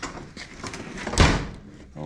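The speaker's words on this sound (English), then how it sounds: "see if the door will close" The door of a 1975 Ford F150 pickup swings shut with a single solid thump, heard close up in a quiet workshop.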